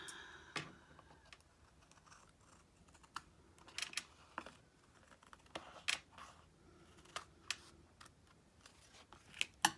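Scissors trim paper and excess glue from an art journal tag, giving a series of short, crisp snips spaced irregularly across a quiet room.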